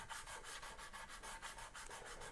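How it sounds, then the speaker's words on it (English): Steady back-and-forth rubbing of 320 grit sandpaper across guitar frets, a fast regular scratchy rhythm, close and constant with no talking. "I take little pieces of sandpaper like this, that's 320,"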